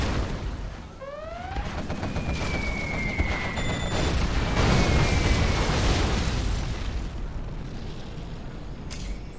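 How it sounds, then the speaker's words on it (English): Continuous heavy explosions and booming blasts fill a combat video game bombing run, loud and dense, with rising whistling tones and rumbling bursts overlapping throughout. "let's go bomb the crap out of some stuff down here."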